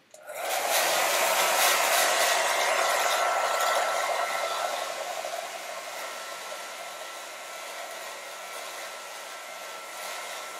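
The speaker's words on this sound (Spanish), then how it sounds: "Vayan moviendo el secador, no se queden en un solo lado." A hair dryer blows steadily on a stamp, a loud continuous airy whoosh that softens slightly partway through and then holds at a lower level, with no voices.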